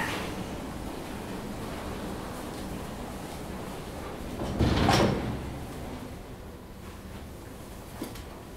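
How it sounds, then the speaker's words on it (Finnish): A door being locked, heard as a short rattling clunk midway through, followed later by a faint click, over a steady hiss of room noise with no talking. "mä käyn lukitsemassa ton oven"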